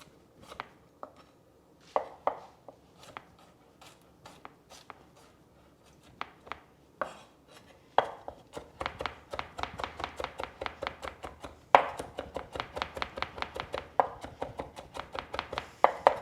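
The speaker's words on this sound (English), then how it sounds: "So I really want to chop this garlic" A knife chops garlic on a cutting board, starting with slow, scattered taps before settling into fast, steady rhythmic chopping, close and clear with no talking.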